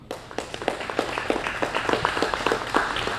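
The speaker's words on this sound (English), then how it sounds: "Let's give Mr. Tony Dowell a round of applause for letting us come out" A small audience at a university football press conference luncheon gives a round of applause, distinct individual claps in a loose, steady rhythm that build slightly and continue throughout, close and moderately loud.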